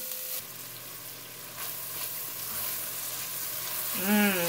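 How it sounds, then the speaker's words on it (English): Chopped garlic and onions fry in a pot for pot roast with a soft continuous sizzle and light stirring, ending in a brief louder scrape. "I'm going to add in some onions. I'm just going to cook these for just a few minutes."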